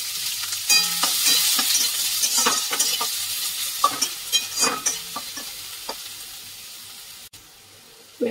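Grated onion tipped into hot oil with cumin seeds, bay leaf and asafoetida sizzles loudly, broken by scraping stirs and clinks, then quietens toward the end.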